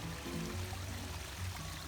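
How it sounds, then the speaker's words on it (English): A small waterfall spills along the shore of a lake, producing a steady, close rushing wash of falling water with no other sounds. "Pretty little waterfall here along the side of the water."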